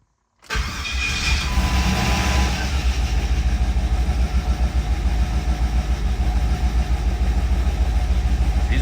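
A turbocharged, nitrous-fed LS V8 in a Ford Crown Victoria that has sat unused for a while fires up and settles into a loud, close, rumbling idle with a slightly uneven pulse.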